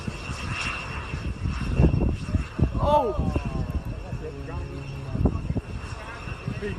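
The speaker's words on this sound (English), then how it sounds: "This plane was trying to take off in strong winds when it suddenly went off the runway." Airplane engine roaring as the aircraft tries to take off in strong winds before running off the runway, a loud sustained drone with gusty rumble and voices talking over it.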